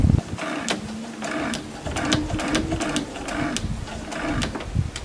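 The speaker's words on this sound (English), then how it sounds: "You want one stitch and then one back stitch, and then sew down to the end." A sewing machine stitching a quilt seam forward and back, its motor whirring and needle chattering steadily up close, with short pauses where the stitching direction reverses.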